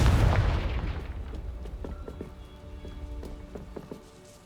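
A Confringo blasting spell goes off in the video game Hogwarts Legacy, a loud booming burst at the start that rumbles and fades over several seconds, followed by faint scattered clicks and tones.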